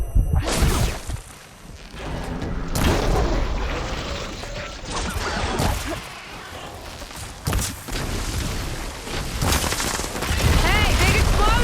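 A big explosion in Horizon Forbidden West, heavy booming blasts and crashing debris rolling on through dense combat noise, loud and sustained, with a player's voice talking over it.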